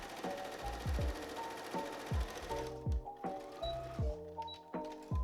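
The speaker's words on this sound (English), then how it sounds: "then I'm going to stitch across this bottom edge here" A sewing machine stitches across the bottom casing edge of a dress in a steady run of mechanical thumps and whirs, pausing briefly and then continuing nearby.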